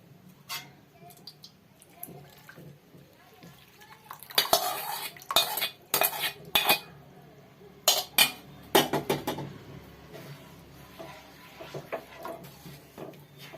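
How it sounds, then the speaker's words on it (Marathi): A utensil stirs sugar syrup into a besan (gram flour) mixture in a pan for besan barfi, making a string of sharp metallic clinks and scrapes, busiest in the middle of the clip. "आता इथे मी पाक ह्याच्यात घालते."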